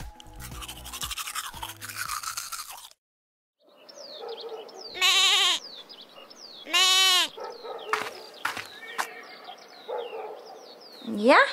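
Goats bleating in a toy doll-play scene, several loud wavering bleats coming one after another, mixed with dog-like barks and brief brushing sounds, while people talk at the start.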